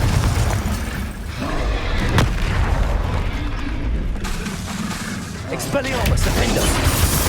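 Confringo blasting-spell explosions in Hogwarts Legacy, booming hits in a busy fight, mixed with other spell effects and a voice.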